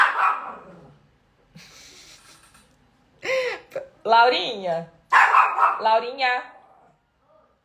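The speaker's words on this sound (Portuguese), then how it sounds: "Gente, meu cachorro tá impossível." A nearby dog gives a few yelping, whining barks in short bursts, with a person speaking briefly between them.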